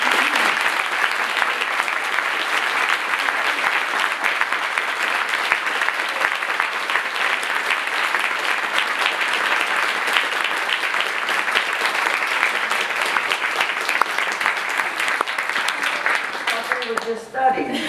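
After a talk by the Librarian of Congress at a university forum, a large audience claps in a long, steady burst of applause that holds nearly unchanged before fading away at the very end.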